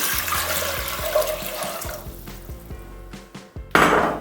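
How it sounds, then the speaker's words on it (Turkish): Water pours from a container into a cooking pot on the stove, a loud gushing splash at first that thins into lighter trickling and dripping, then a final short burst of splashing. "Suyumu tencereye boşaltıyorum."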